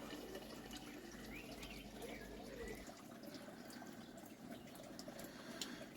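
Water pours steadily into an aquaponics tank with a continuous rushing, splashing wash and small drips and gurgles, faint and even throughout.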